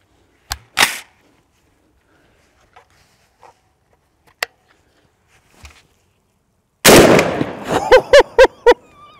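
A Bear Creek Arsenal .450 Bushmaster rifle fires into a full bucket of drywall mud, with a sharp shot early, scattered light knocks and taps, then a heavy blast followed by a quick run of close, loud reports.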